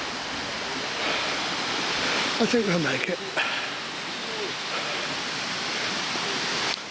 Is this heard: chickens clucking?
no